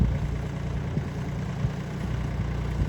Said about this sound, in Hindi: यहाँ से आ रहा है ट्रैक्टर ऑफ रोडिंग करते हुए